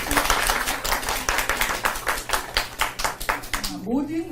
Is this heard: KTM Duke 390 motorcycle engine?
no